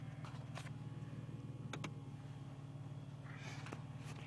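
A Mercedes W124 300E idles just after starting, a faint, steady low hum with an even pulse, broken by a few light clicks.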